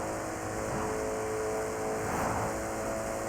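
A Porsche 918 accelerating in the racing game The Crew 2 gives a steady, smooth engine whine that rises gently in pitch over a few seconds, fairly quiet and without speech.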